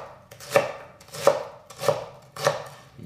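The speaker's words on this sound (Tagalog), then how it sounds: "Hihiwain lang natin itong sibuyas." A knife chops an onion on a cutting board in a Filipino home kitchen, four crisp, evenly spaced thuds about half a second apart, close and clear with no talking.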